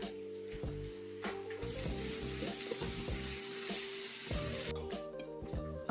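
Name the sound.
stirring Brussels sprouts thoran in a pan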